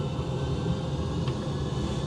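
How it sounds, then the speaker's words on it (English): A simulated airliner engine spools up to takeoff power during the takeoff roll in a full-motion flight simulator, a steady dense low rumble and roar with no talking. "So we got power, as you can hear it."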